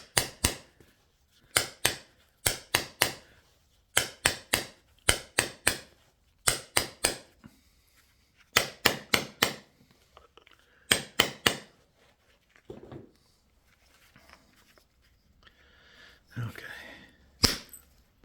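Sharp clicking strikes of a 3/4 inch copper bopper flaking chert during flint knapping, arriving in quick clusters of two to four close, crisp taps with brief gaps, and softer scraping sounds toward the end.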